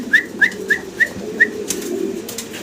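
A male pigeon on a pigeon farm coos in five short, clear notes evenly spaced, close to the listener, over a low steady background hum.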